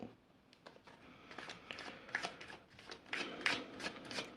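Tarot cards shuffled by hand in a quiet room, a series of soft, rapid riffling and flicking bursts that grow a little louder toward the end, with no one speaking.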